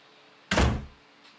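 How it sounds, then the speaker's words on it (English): A door slams shut with a single heavy thud that fades quickly, alone against a quiet room with no talking. "But that door slammed, though."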